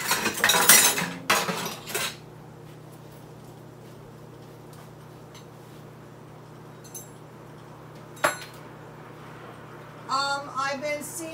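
Metal spoons and other cutlery clatter and clink as someone rummages through them, a dense jangle for about two seconds, then a lone clink later and another short burst of rattling at the end.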